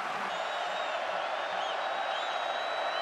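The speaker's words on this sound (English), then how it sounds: "Crowd getting behind this defense." Football stadium crowd at an Arkansas versus ULM college game, a steady, loud wash of cheering and roaring that holds without a break for the full stretch, with no clear voices standing out.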